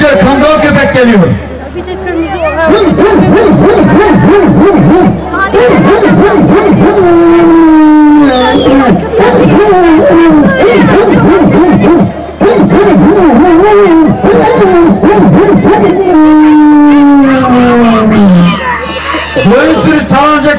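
A voice imitates a Kangal dog's barking and howling: rapid rhythmic barks, then drawn-out falling howls, loud and close, repeated through the clip.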